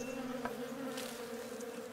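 Bees buzz near a nest in the video game Above Snakes, a continuous steady droning hum, fairly loud and close, with a faint click and no talking.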